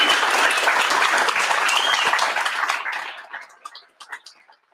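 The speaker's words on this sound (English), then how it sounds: "another big round of applause" A convention audience gives a big round of applause, a dense, loud wash of clapping from many hands that swells and holds, then thins into scattered claps and fades out.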